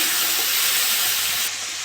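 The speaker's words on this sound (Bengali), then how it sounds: "চিংড়ি মাছটা একটু ভেজে নিয়েছি" Salted, turmeric-coated prawns fry with onion in a pan, giving a steady, close, hissing sizzle that drops slightly toward the end, with no talking.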